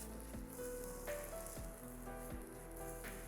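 Tomato puree and kidney beans cook in a pan with a faint, steady sizzle and soft crackle, close by and continuous with no talking.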